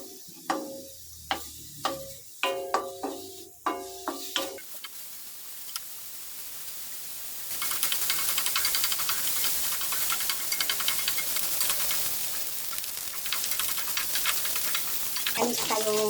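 Raw pork dropped into a hot pan to render its fat for Filipino humba, a few sharp clatters up front giving way to a loud, steady sizzle of frying meat that fills the rest, close and alone without talk.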